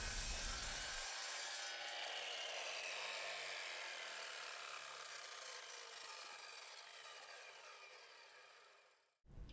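A hand saw cuts through metal plates for DIY speaker stands, a continuous rasping scrape that runs loud and steady for several seconds before stopping abruptly.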